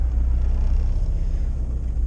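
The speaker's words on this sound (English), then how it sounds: "Listen to all the rattles." A modified car's exhaust gives a low, steady rumble from inside the cabin while driving, with a faint rattling texture under the drone and no voices.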